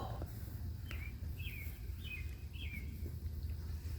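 Three or four short, thin bird chirps repeat in a backyard on a July morning over a low steady rumble of wind or distant background noise.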